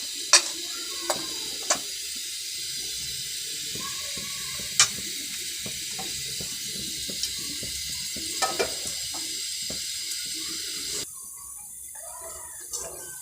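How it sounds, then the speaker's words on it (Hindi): Nigella and fenugreek seeds sizzling in hot oil for pickle-spiced shimla mirch, a steady bright crackle with a few sharp pops and a short quieter stretch near the end. "ऑयल गर्म होता है। कलौंजी और मेथी दाना"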